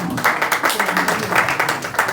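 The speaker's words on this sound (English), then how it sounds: "Please give her a round of applause" An audience at a press soirée applauds, with a dense, steady patter of many hands clapping close by and voices mixed in.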